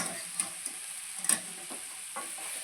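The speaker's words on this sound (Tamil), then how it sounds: "இப்போ முருங்கைக்கீரை வந்து நல்லா வதங்கிடுச்சு." Drumstick leaves sauté in a pan with a faint, steady sizzle under a high hiss, broken by a few soft clicks and scrapes of stirring.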